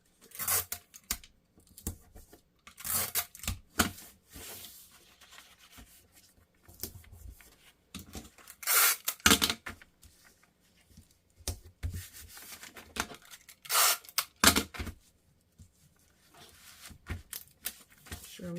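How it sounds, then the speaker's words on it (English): Adhesive tape is torn off and pressed down during a bust and waist increase alteration, giving irregular short ripping and rubbing bursts between quiet pauses, close and fairly soft. "Now I tape."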